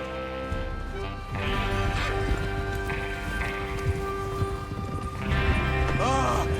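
Horse hooves clatter in a steady galloping rhythm under a dense layer of background music and ambient noise, with occasional whinnying near the end, from the video game Red Dead Redemption 2.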